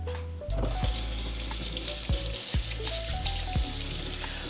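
Tap water runs steadily into a kitchen sink as an ingredient for a shrimp and crab salad is rinsed under it, with a few clunks and knocks against the basin over the constant close splashing flow.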